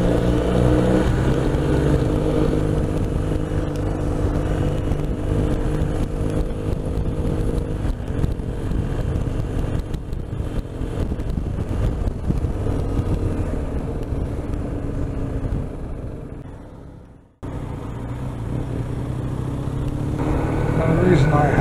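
Motorcycle engines of a Triumph T100 and a BMW R 1250 RT riding together give a steady, loud low drone with wind rush, briefly cut off near the end, then resuming and building.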